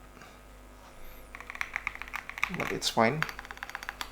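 Typing on a Chilkey PAW65 Bluetooth mechanical keyboard with a knob, its keys slightly scratchy rather than smooth; a rapid run of close, crisp clicks with a person talking briefly over them.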